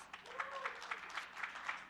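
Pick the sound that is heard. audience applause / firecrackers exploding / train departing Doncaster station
audience applause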